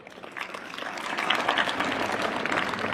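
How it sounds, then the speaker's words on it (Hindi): A room of children at a spiritual talk claps for themselves, a dense, steady burst of applause that builds quickly and holds at moderate loudness. "जोरदार तालियां अपने लिए।"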